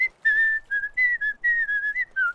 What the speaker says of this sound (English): Back off that whistling